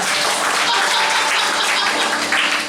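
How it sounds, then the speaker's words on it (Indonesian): Church congregation at a GBI worship session breaking into loud, dense applause, a continuous close roar of clapping filling the whole stretch with no pause. "Tepuk tangan yang meriah buat Tuhan"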